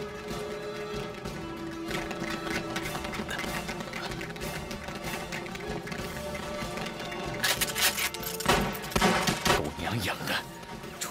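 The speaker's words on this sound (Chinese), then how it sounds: "铁虎他们听到枪声，应该很快就会过来。" Gunfire in a kung fu action film set during the anti-Japanese war, with busy bursts of shots and rapid rattling volleys that grow denser and louder toward the end, mixed under score and voices.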